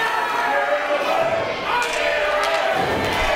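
A pro wrestling crowd at a Global Championship Wrestling event roars behind Dylan Cook as he fights back with a hard right hand, a dense, steady wall of cheering and shouting that holds loud throughout with occasional thuds.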